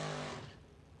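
Drag racing truck rolling up toward the starting line at a Norwalk race meet, engine roaring loud and broadband up close, then quickly tapering to a softer rumble.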